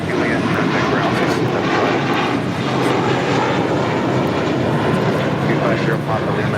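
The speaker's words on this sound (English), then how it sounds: "This is American Airlines Flight 32 taking off" American Airlines jet airliner taking off at LAX, a loud, sustained roar of engines filling the whole stretch without letup, with faint radio chatter beneath.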